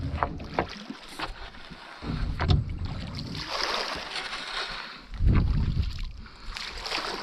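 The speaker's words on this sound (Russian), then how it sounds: "двумя лодками выезжаем" Two boats pull away from a dam onto the shallow Pechora River, with boat and water noise building in two louder surges amid steady wind across the microphone outdoors.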